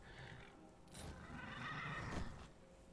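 A horse in the video game Skyrim neighs, a loud whinny of a couple of seconds over a soft ambient backdrop.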